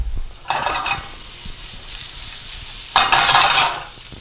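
Two bursts of loud sizzling as garlic hits a hot frying pan, each hiss lasting about half a second, with quiet crackling in between.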